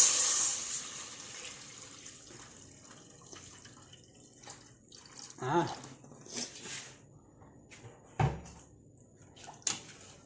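Water is poured into a cooking pot for a fish sour soup, a short hissing splash at the start followed by quiet kitchen clunks and knocks of the pot and utensils.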